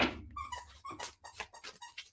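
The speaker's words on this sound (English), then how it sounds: "My dog is playing with a squeaky toy." A dog plays with a squeaky toy indoors, producing a rapid series of sharp, high squeaks in irregular bursts, fairly close and moderately loud, with no talking.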